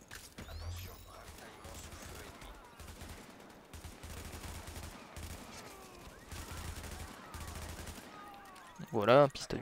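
Submachine gun fire in the shooter game The Division, with bursts of rapid shots coming in clusters across the stretch at moderate level, followed by a louder tonal game sound near the end.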